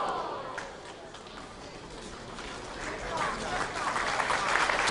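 Arena crowd at a professional pool match applauding to lift a struggling player, a sustained spread of clapping that grows louder toward the end, with a commentator's voice running over it.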